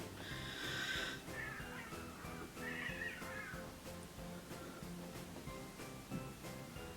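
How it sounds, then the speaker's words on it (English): A cat meows loudly several times, drawn-out cries rising and falling over a steady background hum, with a quieter meow trailing near the end. "Fucking goddamn cats."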